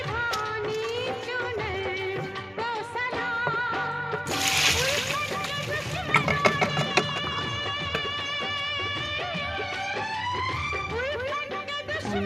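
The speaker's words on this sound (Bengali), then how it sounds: "চাউমিনটা ঢালা হয়ে গেছে।" Steamed chowmein noodles, cooked with oil, tipped into a strainer basket make a brief splashy, sloshing burst midway that stands out over steady background music.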